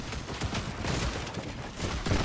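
Dense gunfire rattles through a Fortnite Battle Royale match, a steady, loud barrage of overlapping shots that barely lets up across the short stretch.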